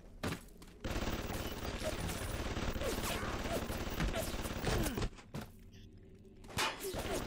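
Automated turret gunfire in BioShock Remastered, a dense rapid burst of shots and impacts that runs almost without pause, breaking off briefly near the start and again toward the end.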